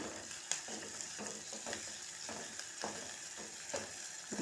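Onion, green chili and curry leaves frying in oil, a quiet continuous sizzle broken by rhythmic stirring scrapes about every half second, with no voices.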